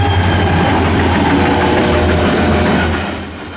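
CSX freight train 900 running south on the Florida East Coast Railway at Spruce Creek, a steady loud locomotive engine rumble with rolling wagon noise throughout, easing slightly at the end.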